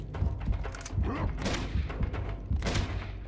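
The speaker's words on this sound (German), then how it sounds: "Immer weiter schießen." Gunfire in the game Uncharted 2: Among Thieves, with several low, thumping shots and bursts scattered through a short stretch, fairly quiet, under faint background sound.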